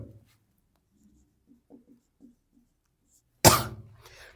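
Light pen scratches from a math solution being written, a few soft strokes, then a sudden louder burst near the end.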